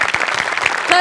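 Studio audience applause on a Marathi comedy show, loud and close, a dense burst of clapping filling the whole moment with some crowd voices mixed in.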